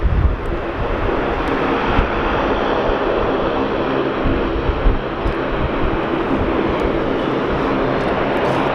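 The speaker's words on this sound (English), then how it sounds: "And Qantas touched down" Qantas airliner roaring steadily on landing at a windy Sydney Airport, a loud, continuous broadband jet rush with wind buffeting throughout and no voices.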